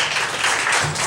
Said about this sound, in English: Give her a round of applause, ladies and gentlemen, our featured poet tonight.